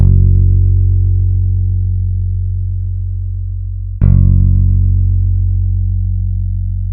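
Two long, deep synth bass notes for a flute-melody beat, each struck once and sustained for several seconds, loud and low with a gentle fade, the second starting about halfway through.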